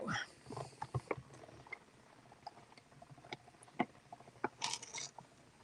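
Quiet crunching and crackling as paper is pressed through a die-cutting machine, with scattered sharp ticks and a louder crunch near the end.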